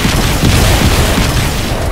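A mine blast in the video game Crysis 3, heard as a dense, loud, sustained boom with a low rumble that fills the whole moment at steady volume, with no talking over it.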